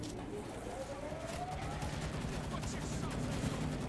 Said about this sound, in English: I'm shooting everywhere